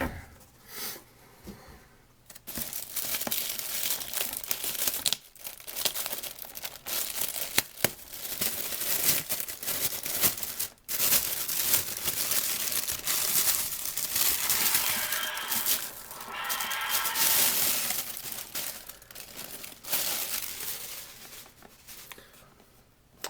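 Plastic wrapping being peeled and pulled off a well-packed box with foam inside, a dense run of close crinkling and tearing that keeps going for about twenty seconds with brief pauses.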